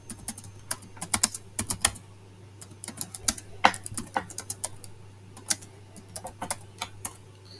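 Typing on a computer keyboard, quick irregular bursts of crisp key clicks close by with short pauses between words, no talking.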